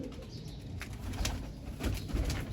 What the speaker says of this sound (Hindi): ये तो उस्ताद के बड़े पुराने कबूतर हैं और नामी ग्रामी